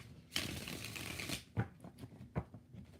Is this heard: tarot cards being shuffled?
yes